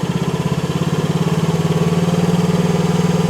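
A petrol engine on an FF Industrial FF18R mini excavator runs steadily with choke on a cold day, a loud, close, even putter with a fast regular pulse and no voices.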